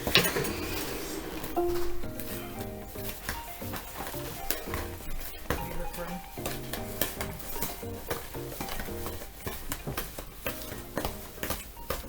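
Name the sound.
mixing apple cake dough in a bowl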